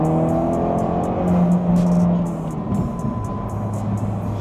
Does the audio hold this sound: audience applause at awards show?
no